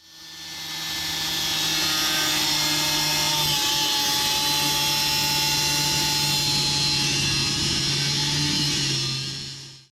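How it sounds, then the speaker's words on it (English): An angle grinder cuts through an exhaust pipe on a car project, a loud, sustained high whine that spins up, holds steady for several seconds, then winds down at the end. "time to get the grinder out"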